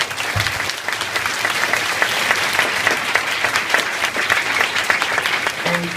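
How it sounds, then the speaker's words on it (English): A graduation audience claps steadily for parents and faculty, a dense, sustained wash of hand claps that holds at full strength for the whole stretch. "They deserve a round of applause as well."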